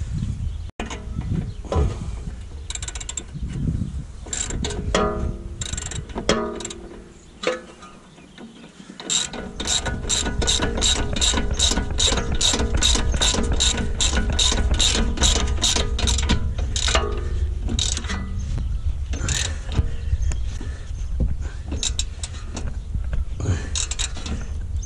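Ratchet wrench with a 16 mm socket tightening the front shock absorber bolts on an Audi A4 B8, a long run of rapid, evenly spaced clicks, loud and close, after a few slower bursts at the start.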